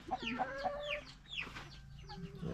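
A chicken clucks and squawks several times in quick bursts, fairly faint, with quieter farmyard background and no talking.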